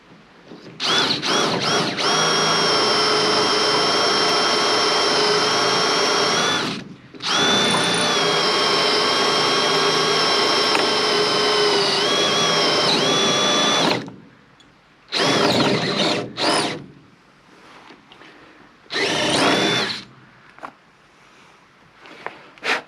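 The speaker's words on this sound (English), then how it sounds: "let's see if I can drill through all this." A power drill drilling through metal whines loudly and steadily for long stretches, pausing briefly, then finishes with a few short bursts of drilling.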